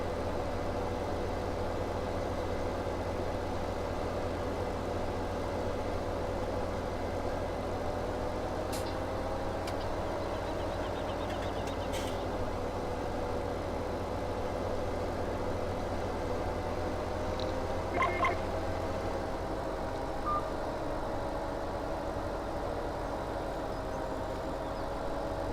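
Tractor in Farming Simulator 17, a steady low engine drone with a constant rumble running on throughout, moderately quiet with a few faint clicks near the middle.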